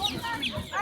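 Chickens cluck and squawk at a busy poultry stall in a livestock market, several short bird calls close by with faint background voices.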